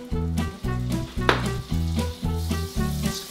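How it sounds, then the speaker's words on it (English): Butter sizzles and fries in a pan on medium-high heat, a steady crackling hiss running under a louder, rhythmic pulsing music track. "we're just gonna drop in a couple tablespoons of butter"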